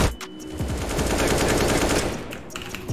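Rapid automatic gunfire in CS:GO rattles in a dense, sustained burst, loud and close, with no talk over it.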